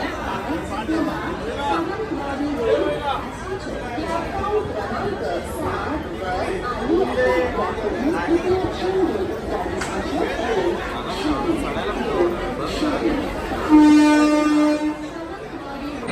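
Dense crowd chatter fills a packed express train carrying travellers home for an election, many overlapping voices close by, with a brief train horn blast near the end.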